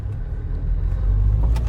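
Car engine rumbling and building revs during a hill start in a driving lesson, a loud low drone that swells toward the end with no talking.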